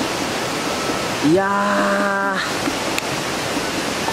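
A river rushes right beside a hot spring inn at Shio-no-yu in Nasu-Shiobara, a steady, loud broadband wash of flowing water, with a brief, tonal vocal sound rising over it midway.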